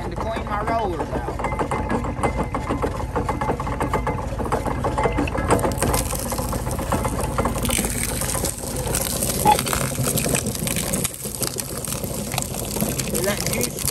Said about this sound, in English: I'll run that through to clean the cane mill out and to clean my rollers out